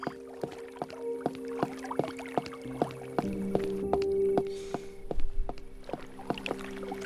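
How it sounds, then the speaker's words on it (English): Water dripping in the vampire video game Cabernet: a rhythmic series of small drops and plinks over soft sustained tones, with a brief watery splash near the end. "I love listening to water."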